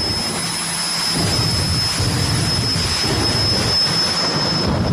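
A jet-powered funny car, a circus-painted Thunderbird at Raceway Park, roars with a loud, continuous, thundering jet blast that holds steady throughout.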